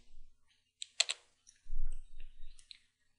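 Typing on a computer keyboard, with a few sharp clicks close by and then a soft rumble of handling before more scattered key taps.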